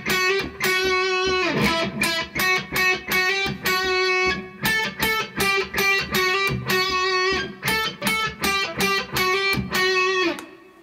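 Distorted electric guitar plays a riff, loud and close, with a chugging, stop-start rhythm of repeated chords and short gaps, played alone without talking.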